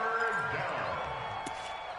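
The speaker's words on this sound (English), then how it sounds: "Here comes a big one as this crowd gets up making some noise" Stadium crowd noise in an American football video game on PS4 swells as fans rise and cheer on third and short, a steady broadband roar running under a commentator's voice.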